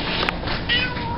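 A house cat meows a few times close by, short vocal calls over faint room noise with a brief click.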